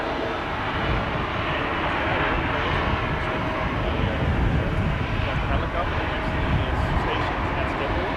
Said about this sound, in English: We also have a helicopter that is just now taking off.